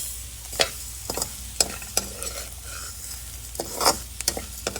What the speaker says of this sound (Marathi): यावरती आता शेवया घालायच्या